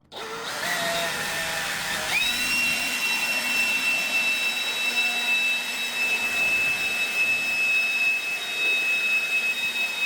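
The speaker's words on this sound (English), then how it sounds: "I want to go ahead and try to get the garage leaf blowed out with my new leaf blower" A new leaf blower blowing out a garage, starting up quickly into a loud, steady high-pitched whine with a strong rushing airflow that holds constant and close throughout, no talking over it.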